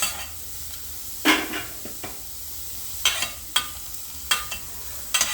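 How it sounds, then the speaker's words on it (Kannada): Onion dry-frying in a pan without oil, a low background sizzle broken by several sharp scrapes and clinks of a spoon stirring against the pan, close up with no voices. "ಆನಿಯನ್ ಫಸ್ಟು ಒಂದು ಸ್ವಲ್ಪ ಫ್ರೈ ಮಾಡ್ಕೊಳ್ತೀರಷ್ಟೇ"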